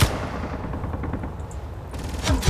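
Enemy guns firing in the Space Engineers video game, a close, rapid stream of automatic gunfire with heavy low thuds throughout, ending in a couple of louder blasts, no talking.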